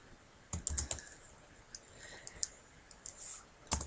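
A web address is typed on a computer keyboard, giving a close series of quick, irregular key clicks in short bursts with brief pauses.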